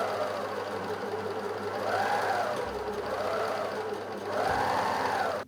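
A sewing machine stitches the bottom hem of a halter top in a zigzag stitch, running in steady close bursts with whirring motor pulses that rise and fall, no voices.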